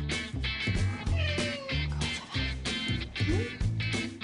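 Typhus, a roughly 14-year-old cat at a home veterinary visit in Normandy, meows repeatedly in a rhythmic series of close, plaintive calls, with no talking over it.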